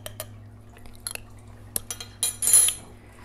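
A utensil stirs briskly in a coffee-making setup, giving a few faint, scattered clinks and scrapes over a quiet background.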